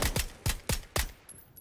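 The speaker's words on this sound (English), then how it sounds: "Shots are coming from this direction right here" Gunshots in the battle royale game PUBG: Battlegrounds on Xbox Series X, five sharp evenly spaced booming shots fired in quick succession, close and loud, followed by a short quiet tail.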